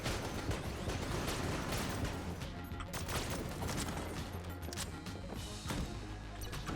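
Rapid gunfire in Enter the Gungeon, a dense clattering stream of shots and impacts at moderate level, continuous and busy with metallic crashes layered over it.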